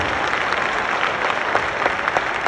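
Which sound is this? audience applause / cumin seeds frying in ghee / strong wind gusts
audience applause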